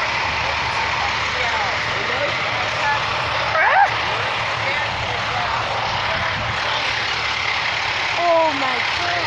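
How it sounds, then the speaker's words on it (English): Big trucks arriving and reversing, a loud, steady engine roar with reversing beeps sounding through it and people talking nearby. "No, I just saw the big trucks."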